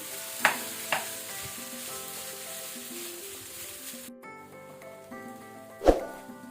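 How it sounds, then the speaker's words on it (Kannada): Cooked rice for tomato rice being stirred in a pan on a medium-high flame, with a steady sizzle, a few sharp scraping knocks of the spoon, and background music throughout. "ಅದಕ್ಕೆ ಒಳ್ಳೆ ರೀತಿ ಮೀಡಿಯಂ ಟು ಹೈ ಫ್ಲೇಮಲ್ಲಿ ಒಮ್ಮೆ ಮಿಕ್ಸ್ ಮಾಡ್ಕೊಳ್ಳಿ ಇದನ್ನು."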